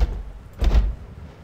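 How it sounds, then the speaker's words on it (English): A frozen door strains and thuds in the Dread X arctic base game, one short muffled burst of rattling low rumble midway through the clip, otherwise quiet. "Door's frozen shut. It will not budge."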